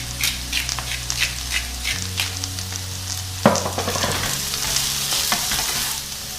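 Eggplant pieces browning in a hot pan, a continuous sizzle with frequent scraping and stirring clatters of a utensil against the pan, close and clear with no voices.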